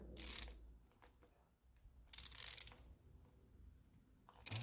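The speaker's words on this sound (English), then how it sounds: "we'll use a 9/16 socket. Get it in there." A socket wrench with a 9/16 socket ratchets while rebuilding a Fox 2.0 steering stabilizer, giving close, crisp bursts of rapid clicking separated by quiet pauses.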